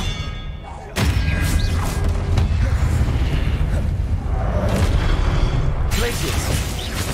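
Confringo spell explosions in Hogwarts Legacy burst in after a brief quieter moment, followed by heavy thuds and rumbling booms within a busy, loud combat soundscape.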